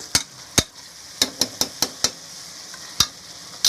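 Chicken pepper curry is stirred in a pan, heard as a series of sharp metallic scrapes and clicks from the utensil, some spaced and some in quick succession, over a faint background sizzle.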